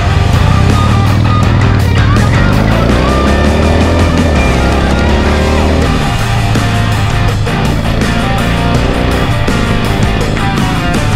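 A Harley-Davidson Heritage motorcycle rumbles loud and steady while riding, its deep engine drone holding throughout with shifting pitch as it pulls along, and no voices over it.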